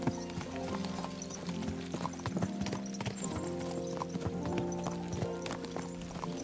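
Horse hooves clip-clopping at a steady riding pace in Kingdom Come: Deliverance II, a continuous rhythmic clatter of hoofbeats over a layered bed of game music, fairly quiet overall with no talk.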